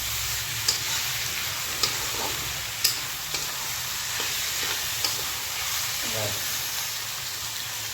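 Mutton curry being stirred in a pot on a home stove, a steady sizzle and frying hiss running throughout with occasional scraping clinks of the spoon against the pot.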